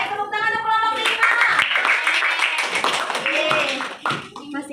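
Children in a classroom give a burst of applause for a presenting group, dense clapping that swells and carries on steadily for several seconds, mixed with voices.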